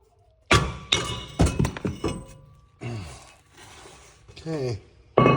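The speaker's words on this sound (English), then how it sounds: "we're gonna probably have to tap the rotor to get it off of there." Hammer taps knock a front brake rotor loose on a 2015 VW Jetta TDI: a run of loud, close, sharp metallic hits, then scraping and a final clank.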